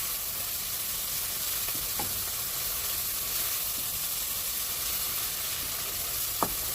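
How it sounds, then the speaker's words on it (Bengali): Meat and spice masala with turmeric fry in a pan while being stirred, a constant sizzling hiss with occasional soft scrapes and one small clack near the end. "মশলাটা কষাতে হবে ভালো করে"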